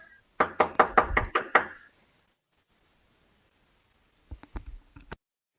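Police knocking on a room door: a loud, quick burst of about seven sharp raps, a pause, then a second softer round of knocks, close and with no voices.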